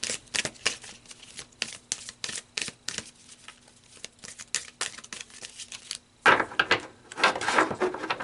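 Tarot cards shuffled and handled: a close, steady run of quick papery riffles and flicks, then a denser burst of rustling as cards are drawn, with no talk.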